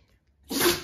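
A child sneezes once, a short close burst that follows a quick intake of breath.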